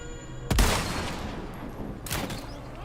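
Two loud gunshots in the video game Resident Evil 4 ring out about a second and a half apart, each with a sharp crack and a lingering echoing tail.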